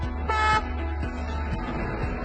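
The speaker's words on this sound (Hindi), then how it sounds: "अगर ट्रेन चलने से पहले दो छोटी सीटियां देती है, इसका मतलब ट्रेन चलने को तैयार है।" Two short Indian railway train horn blasts sound close and loud, the first ending as a second brief toot follows, with a low rumble continuing underneath.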